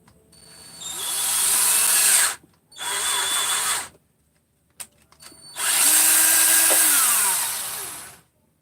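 A power drill drilling a hole for a flat-bottom tap whines loudly in three bursts separated by short pauses, the last run the longest and steady.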